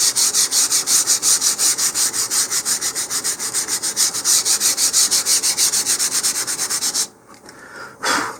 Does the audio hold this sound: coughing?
no